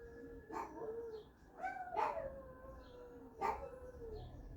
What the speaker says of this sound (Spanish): Esto que están escuchando ahorita, un accidente a lo mejor, o algún, porque son patrullas, ya son de todos los días,